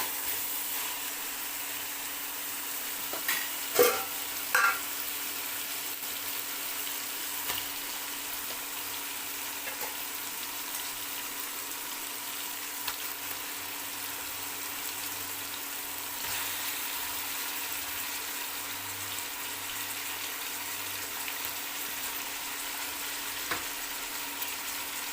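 Chicken, tomato and onion fry together in a pot for chicken biryani: a faint, even sizzle runs throughout, with a few soft utensil clicks and scrapes as the mixture is stirred.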